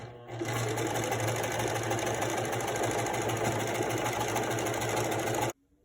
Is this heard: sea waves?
no